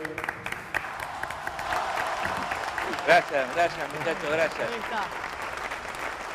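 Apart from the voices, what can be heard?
crowd applauding someone in a courtyard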